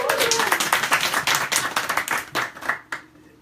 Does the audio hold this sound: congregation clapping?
yes